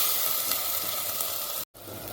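Tomato, onion and green chilli masala fries in a pot for aloo methi curry, giving a steady close hissing sizzle that cuts out for a moment and then resumes.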